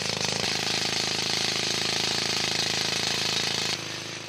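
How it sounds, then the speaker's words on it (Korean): Loud, continuous rattling of a pneumatic rock drill boring holes into marble in the Makrana quarry, India, to thread a wire saw; the steady hammering runs close and unbroken before dropping off at the end. "먼저 지층에서 떼어낼 대리석의 윗부분과 아랫부분을 90도 각도로 뚫어서 와이어를 넣을 구멍을 만드는 작업이 진행됐다"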